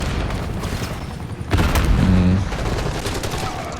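Shotgun blasts from Call of Duty Black Ops 6, loud booming shots clustered mid-clip with a fast burst of firing, over a steady bed of game sound.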